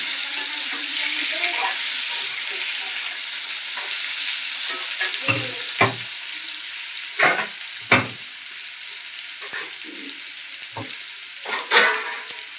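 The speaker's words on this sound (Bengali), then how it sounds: "আলুটা পেঁপেটা ভালো করে ভেজে নেব" Potato and papaya frying in a pan at home, a steady loud sizzle throughout broken by several scraping stirs of a spatula against the pan, close and continuous.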